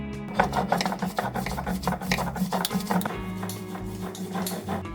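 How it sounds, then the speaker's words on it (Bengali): Grated coconut is ground in a kitchen for a dim paturi egg recipe, a rough rhythmic rasping and rubbing of stone or blade that continues steadily without voices. "এখানে আছে নারকেল কোড়ানো এবার একটু বেটে নেব"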